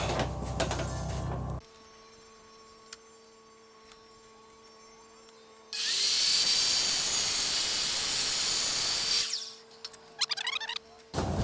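A table saw fitted with an expensive blade hums at idle, then slowly cuts an aluminum ruler with a loud, steady, harsh whine lasting several seconds before dropping back to a motor hum and a few clatters.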